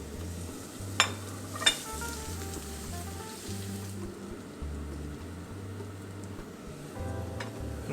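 Garlic, ginger and chili stir-fry in a pan for a leftover roast pork stir fry, with a soft continuous sizzle over a low hum and two sharp utensil clinks near the start.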